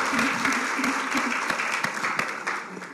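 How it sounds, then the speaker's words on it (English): A round of applause from a conference audience, close and busy with distinct individual claps, while a voice speaks faintly underneath. "and a very beautiful round of applause for her."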